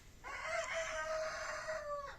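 A rooster on a free-range chicken farm gives one long, loud crow lasting about two seconds, heard fairly close against quiet background noise.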